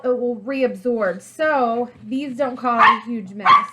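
Small pet dogs bark and yip playfully at close range, scattered sharp barks mixed in with someone talking throughout.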